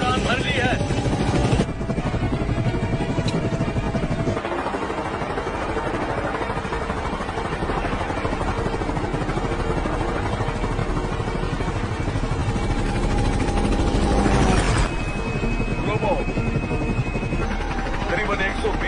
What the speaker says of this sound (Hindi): हमने उड़ान भर ली है।